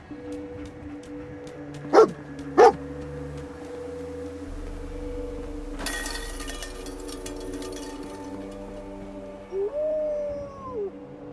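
Dogmeat, the dog companion in Fallout 4, gives two sharp barks, then later a whining whimper, set against quiet game ambience and a brief rumbling clatter, with no speech.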